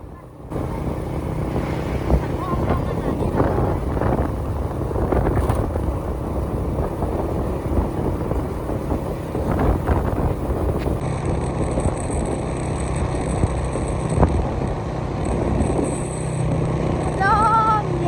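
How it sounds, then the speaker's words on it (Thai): Wind rushes past during a boat trip in Thailand in October, a loud, constant roar that buffets the microphone, with a low rumble underneath throughout. "ลมเย็นสบาย"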